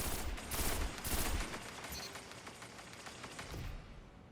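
A fusion rifle firing in the Destiny video game, a dense rapid burst of gunfire up front that thins into fainter scattered shots and rumbles, with no voices.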